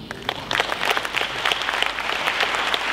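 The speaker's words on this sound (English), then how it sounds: "I would like us to acknowledge them by a clap of hands" A conference hall crowd at the International African Writers' Day opening gives a round of applause, many hands clapping in a steady, mid-distance wash that swells slightly after the start and holds evenly throughout.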